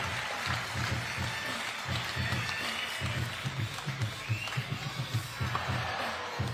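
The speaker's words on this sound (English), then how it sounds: "A big round of applause for Oliver, ladies and gentlemen" Crowd applause rises at a FIBA 3x3 women's basketball finals event in Debrecen, a fairly faint wash of clapping over a steady thumping music beat.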